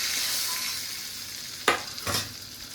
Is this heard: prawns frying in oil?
yes